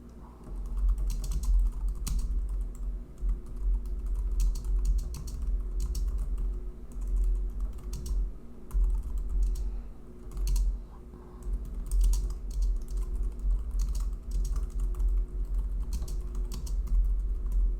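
Steady clicking of a computer keyboard as someone types a text prompt asking an AI to write a real estate listing description, with irregular keystroke bursts under a constant low hum, no talking.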